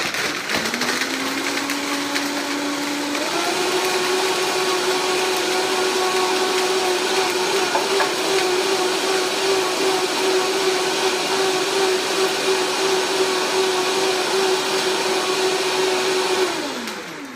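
A blender motor whirs loudly and steadily while blending almond milk, pitch rising as it spins up, grinding continuously for most of the clip before winding down.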